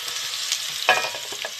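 Garlic drops into a hot pan with grated ginger and spices for a coconut-milk fish pilau, giving a soft crackling sizzle with a sharper burst midway as it is stirred, close and alone.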